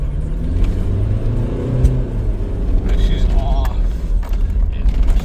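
A 2007 Kia Sorento with the 2.5 CRDI diesel accelerates at half throttle, a steady loud engine drone with rising whir heard from inside the cabin, and a person talks over it.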